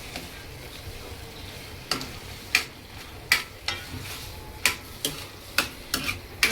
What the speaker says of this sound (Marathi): मसाल्यामध्ये चांगलं याला परतून घ्यायचं